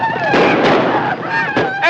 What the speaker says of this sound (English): don't shoot across the wagons